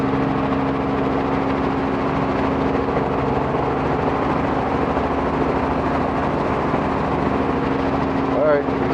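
An aircraft engine holding a hover during a maintenance check flight that has engine trouble, heard as a loud, continuous low drone with steady tonal hum throughout, with a voice speaking over it.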